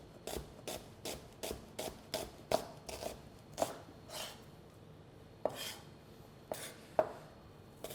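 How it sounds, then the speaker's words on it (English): A knife roughly slicing two onions on a cutting board, with steady, evenly spaced chops that slow and spread out toward the end, close and moderately loud, with no voices. "Sometimes I like to slice the onion in uneven size"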